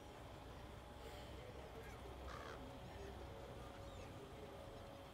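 A crow caws in a video game set in The Walking Dead: Michonne, heard as a brief, fairly faint call partway through over a dense, noisy outdoor ambience.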